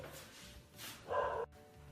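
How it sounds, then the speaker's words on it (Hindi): Dogs barking at a distance, a short burst of a bark or two, moderately loud over a quiet indoor background. "जानिया कुत्तों को चुप करा दे।"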